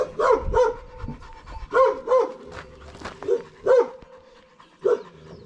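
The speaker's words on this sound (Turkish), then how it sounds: "köpek yani ısırgan" A female dog barks in short, repeated bursts spaced a second or so apart, close and loud, with soft panting and breathy whimpers filling the gaps between barks.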